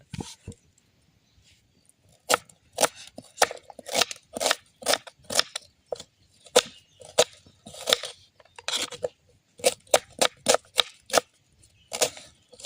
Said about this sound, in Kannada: ಟಮಾಟೆ ಹಣ್ಣನ್ನು ಭಾಳ ಸಣ್ಣ ಕಟ್ ಮಾಡ್ಕೋಬೇಕು